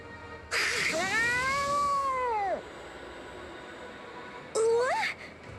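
A tabby cat in the video game Bravely Second gives two clear meows, a long drawn-out one and then a short second one, close and alone against quiet background music.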